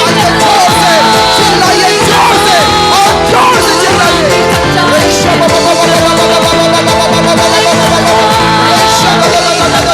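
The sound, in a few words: church congregation shouting hallelujah loudly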